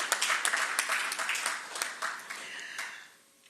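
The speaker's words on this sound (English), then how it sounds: "I think you should put your hands and applaud the work that Institute of Sports" Audience applause at a sports event launch, a dense spread of many hands clapping with scattered sharper claps, steady at first and then tapering off toward the end.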